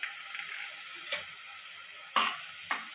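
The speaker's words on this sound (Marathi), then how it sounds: "डाळ टाकून आपण सगळीकडे भाजी परतून घेऊया" Coriander-leaf vegetable with dal being stir-fried in a pan, a steady faint sizzle with a few sharp scrapes of a spoon stirring, heard alone without talk.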